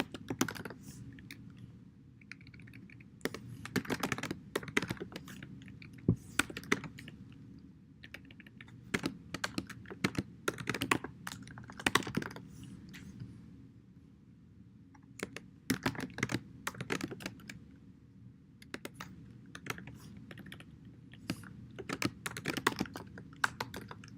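Rapid typing on a computer keyboard while entering C++ code, steady bursts of close, light key clicks with brief pauses between runs, no talking.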